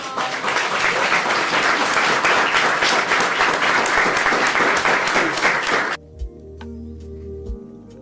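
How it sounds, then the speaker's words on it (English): An audience at a disability summit bursts into loud, sustained applause lasting several seconds, which then cuts off abruptly into a quieter room. "I just want to give them a round of applause"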